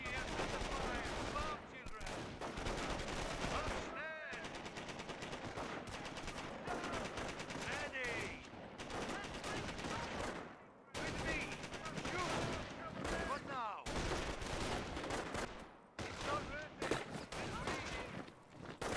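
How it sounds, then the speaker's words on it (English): Sustained rapid gunfire and machine-gun bursts from a World War II strategy video game, dense and loud throughout with brief gaps, plus scattered game voice lines mixed in. "Volks Grenadiers are taking fire at the munitions!"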